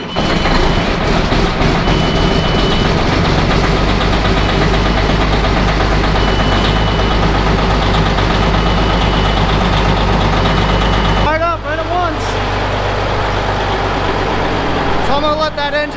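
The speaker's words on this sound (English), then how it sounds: "I'm gonna let that engine warm up. It's pretty cold, hasn't been used in a little while." A 510 horsepower tractor engine idles while warming up from cold after months unused, a loud steady low rumble throughout, with a voice speaking briefly near the end.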